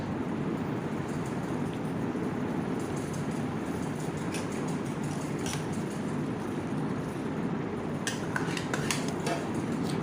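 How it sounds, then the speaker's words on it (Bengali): Mango puree being stirred into cold milk, a steady scraping churn with a few sharp clinks of a utensil against the container near the end, close and fairly quiet, no voices. "আমের পিউরিটা দিয়ে এটাকে ভালো করে মিক্স"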